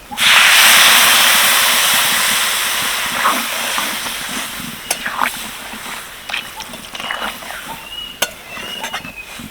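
Water poured into a hot pan of vegetables and flour for a neem flower curry bursts into a loud, broad hiss that slowly fades, leaving softer sizzling with scattered pops and crackles.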